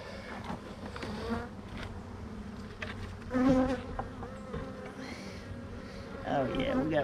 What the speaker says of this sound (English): Yeah, looks like we got enough bees in here.